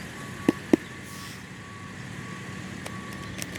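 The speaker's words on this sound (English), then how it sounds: "Oh great, this big old truck's going to pull up right next to me." A big Mid-American truck pulls up close by, two sharp reversing beeps standing out early over a steady engine rumble, with fainter beeps later.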